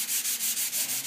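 Close, rhythmic hand sanding: about six even back-and-forth strokes of sandpaper rasping over a Ford Model A car body panel, with no talk.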